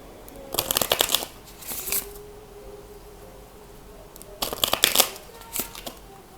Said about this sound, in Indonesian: Saya diminta untuk menggunakan oracle cards.